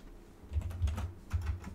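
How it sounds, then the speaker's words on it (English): Quiet computer keyboard typing with a few short clusters of soft key clicks, close and alone. "Seemed like they were typing there."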